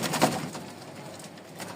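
Long-tailed Lakkha pigeons coo softly at close range, with a slightly stronger coo near the start. The calls sit in a dense, airy background noise, and no one speaks.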